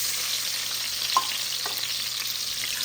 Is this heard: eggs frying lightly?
yes